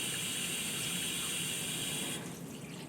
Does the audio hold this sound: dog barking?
no